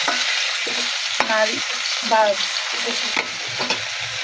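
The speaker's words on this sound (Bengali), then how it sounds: "এখন আমি পটল আলুগুলো দিয়ে দিব ভাজার জন্য।" Pointed gourd and potato pieces fry in oil over low heat, giving a continuous soft sizzle broken by several clear spatula clinks and stirring scrapes against the pan.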